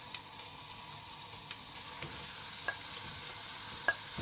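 Minced beef browning in a pan for bolognese, a steady, fairly quiet hissing sizzle with a few faint clicks and taps of a utensil.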